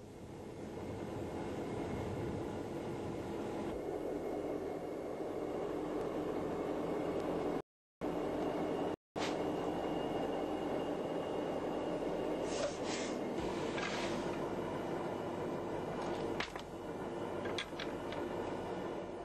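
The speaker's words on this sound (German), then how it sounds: "Der Kraftfahrer fährt in Richtung Spürziel und hält den Spürpanzer alle 200 Meter an." A Fuchs NBC reconnaissance armoured vehicle drives across open terrain, giving a steady, loud engine and drivetrain rumble with broadband noise that runs throughout, broken by two brief dropouts.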